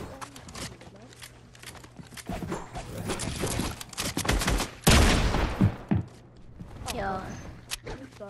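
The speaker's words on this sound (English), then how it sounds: "It keeps on shooting!" Rapid bursts of video game gunfire crackle repeatedly, loud and dense in the middle, with a voice talking between and over the shots.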